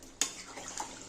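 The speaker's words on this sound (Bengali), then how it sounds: "একটু দিয়ে দিচ্ছি জল, অল্পই দেব," Water is poured briefly into a pot of Bengali-style potato chicken curry, starting with a sharp splash and continuing as a short, close gurgling stream.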